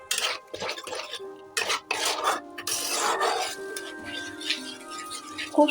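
Paneer butter masala gravy is stirred and sautéed in a pan, with close scraping and rubbing of a spatula against the cookware in uneven strokes.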